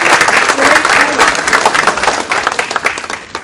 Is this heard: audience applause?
yes